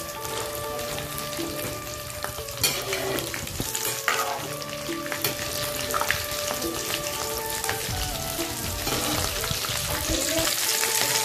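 Potato chops (aloo chop) deep frying in hot oil crackle and sizzle steadily, with scattered sharper pops and a few clinks, the bubbling growing slightly brighter toward the end; no talking.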